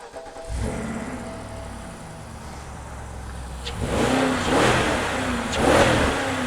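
A crash-damaged Toyota Hilux under repair, its engine starting and then idling steadily up close, followed by several louder revs toward the end.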